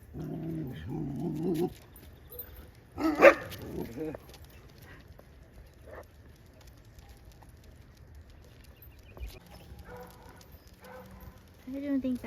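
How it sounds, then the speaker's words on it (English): A white husky vocalizes outdoors on a windy day with a few short barks and whining sounds, moderately near, separated by stretches of wind noise and quiet. People talk at times. "the white husky is just talkative"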